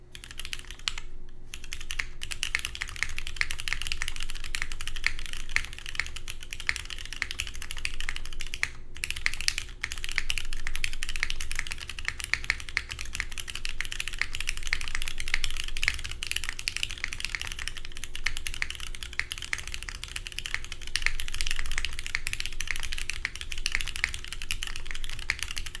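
Steady typing on an OC-62 mechanical keyboard fitted with KKB ABS keycaps, a close, continuous stream of key clacks with no pauses or talk.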